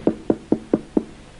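Five evenly spaced knocks on a door, close and sharp, in a steady rhythm with no talk over them, heard in a comedy sketch about a man returning home late at night.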